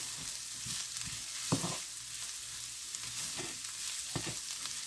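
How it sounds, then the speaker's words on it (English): Soft sizzling of vegetables sautéing in a pan, with scattered scraping and clinking as a utensil stirs them, fairly quiet and close. "Okay, I have sauteed these up a bit. I'm going to mix that together."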